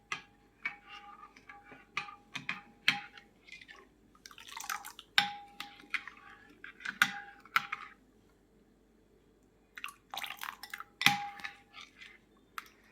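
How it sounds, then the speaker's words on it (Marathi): A spoon clinks and taps against a bowl as coconut and kokum solkadhi is stirred while juice is added, with scattered sharp knocks and soft liquid swishes close by, separated by quiet pauses. "असं ढवळत राहायचंय रस घालताना. अशा पद्धतीने आपल्याला मिक्स करायचं आहे बघा."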